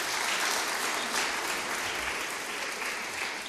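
An audience applauds at an Italian conference on the 2019 special waste report, giving a dense, steady clapping wash from a room full of people that holds evenly for a few seconds with no voices over it.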